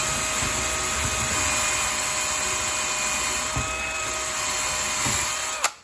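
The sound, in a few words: power drill drilling a hole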